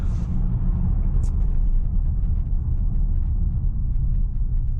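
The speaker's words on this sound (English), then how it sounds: "And the V8 engine, it's just right for this type of car." Inside a 2017 Range Rover TDV8 Autobiography on studded Nokian winter tires, the V8 diesel and road produce a steady, loud low rumble with a faint brief tick, no voices.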